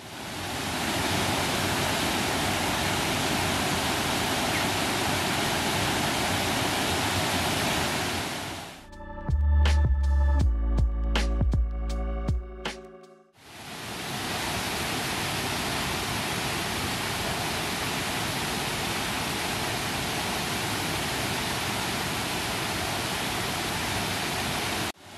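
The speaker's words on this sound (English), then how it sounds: "Korokoro Dam has a stepped spillway, creating a waterfall effect." Water pours steadily down the stepped spillway of Korokoro Dam in a New Zealand bush setting, a loud continuous rushing roar that cuts out briefly partway through before resuming unchanged.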